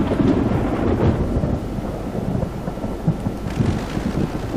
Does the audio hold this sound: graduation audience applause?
no